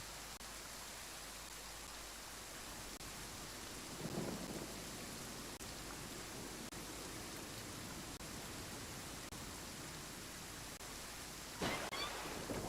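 Heavy rain hisses continuously in a Genshin Impact storm, with two low thunder rumbles breaking through, one near the middle and another close to the end, and no talking.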